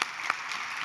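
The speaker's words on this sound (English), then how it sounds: "Let's give them a round of applause." An audience applauds medic teams at a county event, a brief burst of dense clapping from a crowd in a hall.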